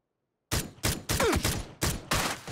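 Gunfire in the video game PUBG, around six loud bursts of shots in quick irregular succession after a brief silence, close and punchy with no talk over them.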